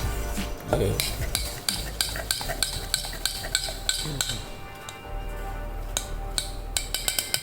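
A plum cake mixture of cocoa powder and country sugar being stirred in a bowl, with regular scraping strokes and repeated sharp clinks of a spoon against the side, close and clear.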